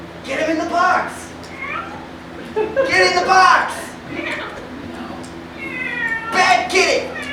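A pet cat meows several times, its loud, drawn-out cries alternating with a person's raised voice nearby.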